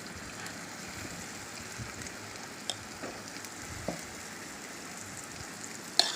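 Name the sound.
paniyaram batter sizzling in hot ghee in a paniyaram pan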